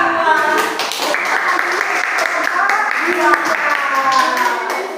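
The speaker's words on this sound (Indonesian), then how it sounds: "kita kasih aplaus dulu untuk kelompok 2" A classroom fills with applause for student group 2, continuous clapping from many hands, fairly loud, with voices mixed in throughout.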